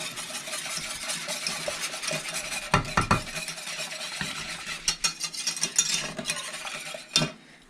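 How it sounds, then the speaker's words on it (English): Stirring one third of a cup of oats into a pot on a stove, a steady close scraping and swishing with a few louder clinks and knocks of the utensil against the pot, no voices. "I'm gonna take 1/3 of a cup of the oats, and I'm just gonna stir it as I put it in."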